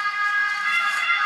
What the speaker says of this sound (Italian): Nel frattempo c'è la sirena